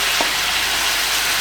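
Masala sizzles and fries in a pan on high heat, a loud, close, continuous crackling hiss with no talk, while cooking a chicken palak paneer balti.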